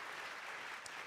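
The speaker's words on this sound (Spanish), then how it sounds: "les podemos dar un fuerte aplauso a todas las personas que nos ven hoy en este día" Steady applause from a church congregation at a welcome-home service, filling the short moment evenly at a moderate level with no voices on top.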